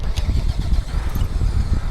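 A running tractor engine at an agricultural fair revs quickly with a steady, loud mechanical rumble throughout, close by, with no pauses.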